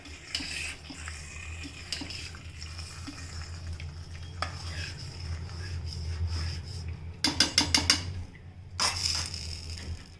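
A spoon stirs red amaranthus pulusu in a pot over gentle sizzling, ending in a quick run of close, rhythmic scrapes against the pot.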